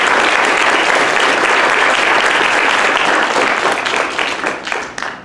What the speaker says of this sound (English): If we could all just give them a brief round of applause.